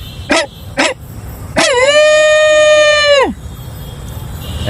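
A man imitates a dog with his voice: two short sharp barks, then a long drawn-out howl-like yelp lasting over a second, loud and close, followed by quiet background.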